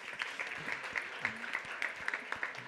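Brief, dense applause from an audience at a real estate directors' gala acknowledging a man named Christophe Giral, a steady crowd clap with a voice speaking over it.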